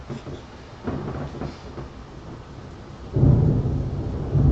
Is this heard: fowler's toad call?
no